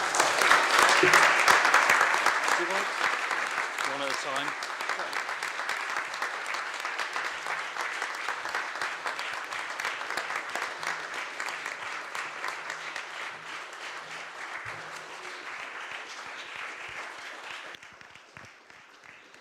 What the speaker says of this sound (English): A small round of applause would be rather nice.